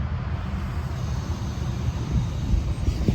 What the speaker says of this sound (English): You hear the air going through all this train.